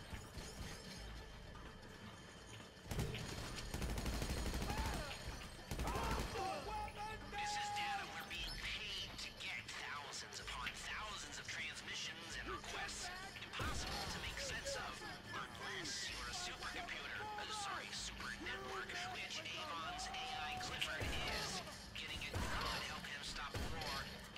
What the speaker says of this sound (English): You shoot the glass first, you can get through.